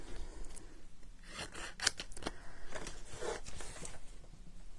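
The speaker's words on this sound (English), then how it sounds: "bring in my nice sharp scissors and do a little bit of fussy cutting." Sharp craft scissors snip around stamped paper card in short, irregular cuts, a quiet run of crisp close snips and slides with no talking.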